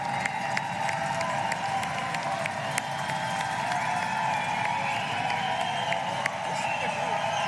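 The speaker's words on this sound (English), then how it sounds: "You can clap for that. It's okay. Yeah, that's good. That's all right. It's a warm-up clap." Graduates at a Mines commencement ceremony giving a warm-up round of applause and cheering, a sustained roar of clapping with whoops from a large crowd, steady and fairly loud throughout.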